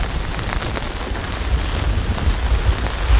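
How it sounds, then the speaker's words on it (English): Steady rain pours down with gusting wind on a one-pole tipi tent, a dense continuous rush that swells and eases slightly, no voices. "It's raining, it's windy"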